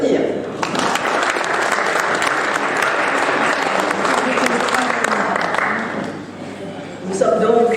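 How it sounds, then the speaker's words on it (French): Audience applause at a book signing and presentation evening: steady, dense clapping from a crowd lasting about seven seconds, dipping briefly near the end before a short louder burst. "On peut les applaudir."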